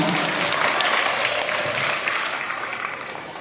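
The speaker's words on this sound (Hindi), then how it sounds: "इधर से भी जोरदार तालियां बजाइए" A taluka-level quiz competition audience claps in a dense, sustained burst of applause that holds steady and then gradually tapers, filling the room with no voices on top.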